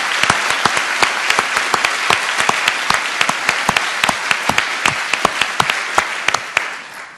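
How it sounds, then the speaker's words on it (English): A courtroom audience at a law school convocation applauds a string quartet, a dense, even patter of many hands with sharp individual claps popping through, loud and close, slightly thinning toward the end. "And one last round of applause for the Clinton String Quartet"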